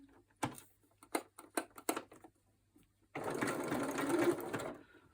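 A sewing machine runs steadily for about two seconds, stitching a handmade prayer journal, after a stretch of soft clicks and handling taps.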